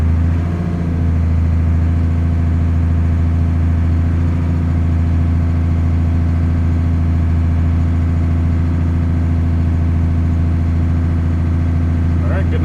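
A first-generation Cummins diesel fitted with a Diamond Eye exhaust runs loud and steady with a deep, even drone, holding a raised rev throughout the clip.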